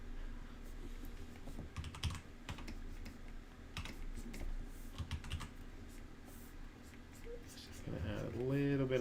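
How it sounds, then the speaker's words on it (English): Computer keyboard typing runs through the clip, light clicking keystrokes in irregular bursts during a comic layout drawing session, with a voice briefly heard near the end. "I have my keyboard right here"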